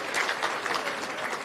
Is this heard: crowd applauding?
yes